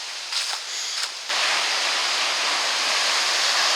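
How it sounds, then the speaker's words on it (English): Waves crash against the shoreline of a windy beach. A few soft bursts come first, then a loud, continuous roar of surf and wash fills the rest of the clip close by. "I gotta talk louder because the waves are crashing"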